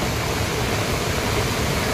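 Water overflows from a full well and pours out in a loud, steady, close rushing torrent with no break.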